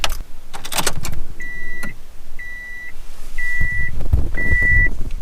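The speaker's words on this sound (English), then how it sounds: "we're gonna turn the key in the ignition and then hit the OK button at the exact same time" Key jangling and turning in the ignition of a turbo-swapped Subaru Impreza, followed by four evenly spaced electronic chimes from the car, close by with no talking.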